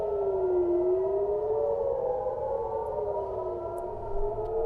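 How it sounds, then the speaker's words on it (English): Missile air raid sirens wailing in Israel: several overlapping civil defense sirens rising and falling in pitch, loud and continuous, heard without talk. "Missile sirens going off."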